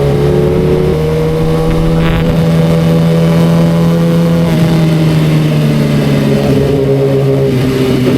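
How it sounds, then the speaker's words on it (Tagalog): A car engine hums loud and close on a mountain road, with a steady low drone and rising and falling tones as the vehicle drives past without any talk. "Kotse ha, kotse."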